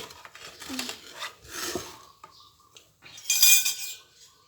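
Fried moo yor, Thai pork sausage, is scooped from a pan onto a plate with a run of close metal scrapes and light clinks against dishware.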